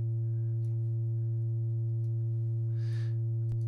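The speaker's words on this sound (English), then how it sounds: "So we have your basic sine wave." Synthesizer producing a plain low sine wave with DC offset, a loud steady pure hum held unchanged throughout, with a brief click near the end.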